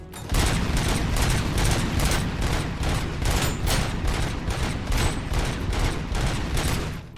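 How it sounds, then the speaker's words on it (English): A heavy gunfight in Robocop: Rogue City, with loud, sustained bursts of rapid gunfire pounding in a steady, repeating rhythm for several seconds, close and dense with no speech. "there's this big ass gunfight going on"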